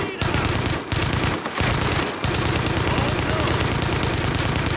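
Sustained automatic gunfire from a firefight in The Division, dense and loud bursts nearly continuous, broken by a few brief pauses.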